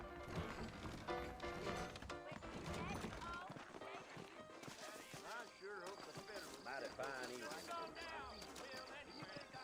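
Rhythmic clip-clop of horse hooves trotting in the video game Red Dead Redemption, mixed with voices and busy background sound throughout.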